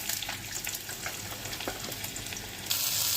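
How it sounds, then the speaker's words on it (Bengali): Potatoes fry in hot oil in a wok with cumin seeds and onion, giving a steady, fairly quiet hiss and sizzle with scattered pops and a brief surge near the end. "আলুগুলো দিয়ে দিচ্ছি কড়াতে।"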